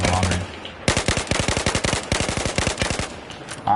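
An M416 assault rifle fires in Battlefield 4 at medium to long range, delivering rapid automatic bursts of sharp, evenly spaced shots in two long strings with a brief gap between them.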